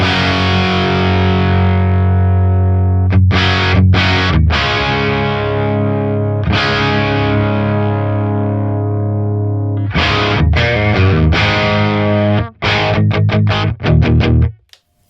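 Electric guitar runs through a JHS Haunting Mids pedal with heavy distortion. Loud, close power chords ring out and are cut off in a choppy rhythm, with a flurry of rapid chugs near the end.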